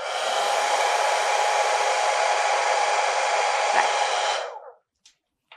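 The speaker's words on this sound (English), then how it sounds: "Therefore, I'm going to use this hairdryer." A hairdryer blowing on a small wind propeller in a classroom lab: a loud, steady airy roar runs for about four seconds, then shuts off abruptly, leaving near silence with a couple of faint clicks.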